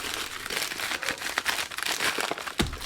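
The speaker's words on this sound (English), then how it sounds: "So we'll just cut this little guy open." A cardboard package box being cut open by hand, a close, irregular run of scratchy crinkling and slicing noises with a sharper snap near the end, with no speech.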